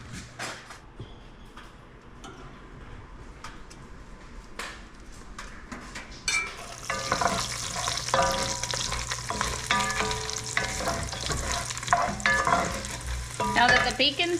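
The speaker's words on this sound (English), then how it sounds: "and then I'll get my burgers cooking." Burgers and bacon fry in a buttered pan on a wood cookstove, a soft hiss with faint clinks that swells into a loud, dense crackling sizzle about halfway through and keeps going steadily, close by with no talking.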